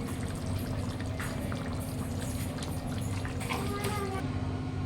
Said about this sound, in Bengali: ফুলকপি আলু কষা হয়েছে, আমি জল দিব।